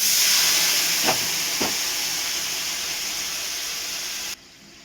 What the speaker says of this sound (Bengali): এবার কালো জিরে ফোড়ন দিলাম, অল্প একটু রসুন বাটা দিলাম, সামান্য একটুখানি, সামান্য একটু জল দিলাম।